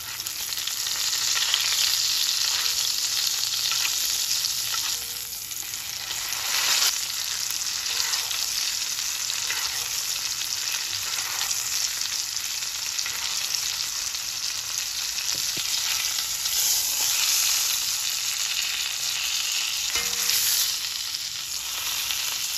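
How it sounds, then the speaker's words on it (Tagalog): Steak searing in a cast iron pan with butter and garlic, giving a steady, loud, hissing sizzle that runs uninterrupted throughout with no talking. "I-sear lang natin mga at least 1 minute."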